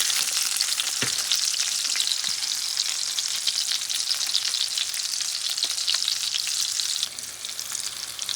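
Breaded Salisbury steak patties fry in a pan with a loud, continuous close-up sizzle and an occasional faint tap of a utensil, no voices.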